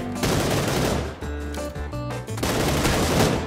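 Automatic gunfire from PUBG Lite rattles in bursts with brief pauses between them, loud and close, over a tonal game background with no speech.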